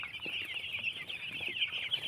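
Chickens on a poultry farm cluck continuously, a dense, faint chorus of overlapping calls from many birds with no talk.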